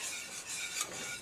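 A spoon working almond butter into a chocolate no-bake cookie mixture with oats and coconut, giving a brief, soft, scraping rasp against the bowl, close and quiet with no talk.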